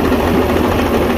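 A Mercury V6 outboard engine idles steadily, a close, loud low rumble with an even throbbing pulse and no talk over it.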